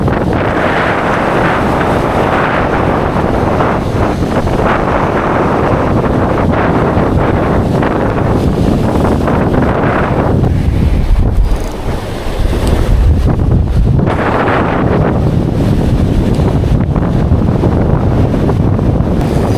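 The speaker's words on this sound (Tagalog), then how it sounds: "Malakas lang talaga yung hangin." Strong wind by a river buffets the microphone in a loud, continuous roar, with a brief lull midway before the gusts surge back.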